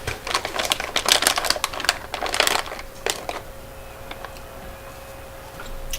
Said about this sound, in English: every time you type, it sounds like an explosion over there